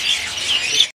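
A caged crested bulbul at a bird market kiosk gives a quick run of three bright, high chirps within a second, close and clear with no talk.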